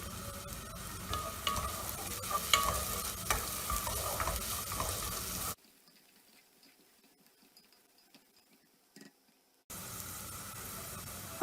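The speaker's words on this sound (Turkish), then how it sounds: "Havuçlarımızı biraz sotaleyelim." Diced carrots sizzle and crackle in a hot pan as they're stirred for a spinach dish, the frying going quiet for a few seconds before the sizzle returns.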